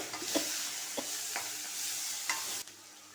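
Onions sizzle steadily in a hot pan for ridge gourd dal, with a few sharp stirring scrapes breaking through the hiss before the sound drops off abruptly near the end.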